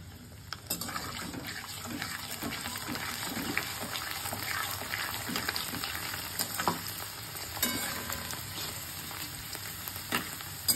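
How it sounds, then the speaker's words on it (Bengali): Papads frying in hot oil, a continuous bubbling sizzle with crackling pops and occasional clinks of a utensil, close up and steady, without talk. "পাঁপড়গুলোও ভেজে নিচ্ছি"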